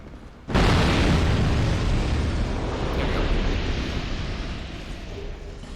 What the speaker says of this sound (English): Maybe I'll use some of those black fire bombs.